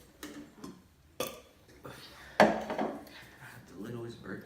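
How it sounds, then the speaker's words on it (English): Small, quick burps from a person, a few short bursts spread across a few seconds at close range, with light voice sounds and faint clatter in between. "The littlest burps."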